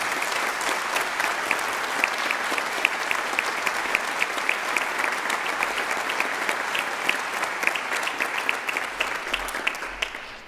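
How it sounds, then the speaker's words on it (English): Sustained audience applause for brass band soloists at a regional championship fills the space evenly, dense and steady clapping from a large crowd lasting about ten seconds before tapering slightly at the end. "I think we should give all the soloists a round of applause"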